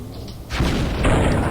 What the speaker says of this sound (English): They're shooting me with rockets.